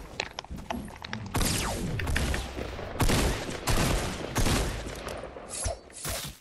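Dense, continuous gunfire and mechanical clatter from a Fortnite match, with rapid bursts and sharp reports layered throughout, loud and busy with no clear pauses.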